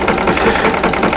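An embroidery machine stitches a design onto a stocking with a quick, even mechanical whir and rapid needle chatter, steady and close for a brief moment.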